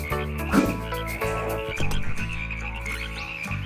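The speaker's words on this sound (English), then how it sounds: "these frogs actually have sound effects" Frog croaks from the Ty the Tasmanian Tiger video game, a few loud, close croaks sounding over steady layered game music, with no voices.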